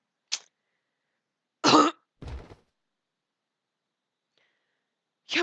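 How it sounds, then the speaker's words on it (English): Coughing from a character in the Hakuoki: Edo Blossoms video game, a few separate harsh bursts with pauses between them, close and fairly quiet against a silent background. "His shoulders folded inwards as he coughed."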